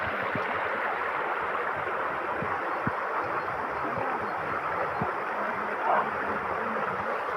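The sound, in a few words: natural spring water flowing from under rocks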